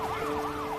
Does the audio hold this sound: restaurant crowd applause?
no